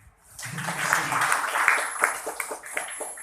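Members at a cooperative meeting clapping, a burst of applause that starts after a brief quiet moment, swells over a few seconds and thins into scattered separate claps.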